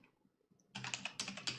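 Quiet, quick clicking of keys on a computer keyboard as a Linux terminal command is typed, a brisk run of close keystrokes after a near-silent moment.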